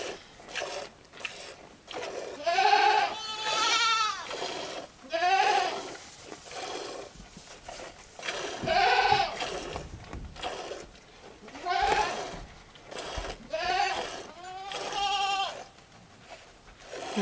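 Goats on a homestead bleating at milking time, repeated loud wavering calls spaced a second or two apart over a quiet background with faint rustling.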